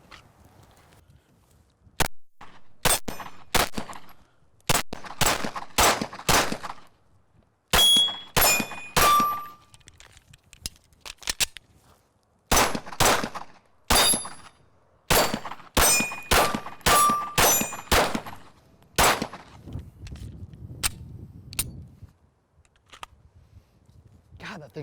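Pistol shots at an outdoor shooting range: a long string of sharp, loud cracks fired in quick bursts with brief pauses between groups, ending in quieter rustling.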